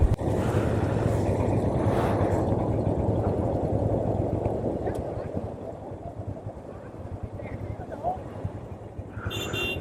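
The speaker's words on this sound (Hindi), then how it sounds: "बहुत ज़्यादा फ्लो तेज है यहाँ पे।" Fast-flowing stream water rushing across a mountain road crossing on the Sangla to Tabo route in Spiti, a loud steady roar with a low rumble throughout, easing slightly toward the end, with voices talking over it.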